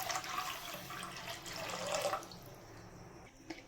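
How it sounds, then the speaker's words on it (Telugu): About a litre of water pours into a kadai (wok) on the stove for a restaurant-style palak paneer, a splashing gush for two seconds that then tapers off into quiet. "ఆన్ చేసి కడాయి పెట్టుకోండి, లీటర్ వాటర్ వేసుకోండి."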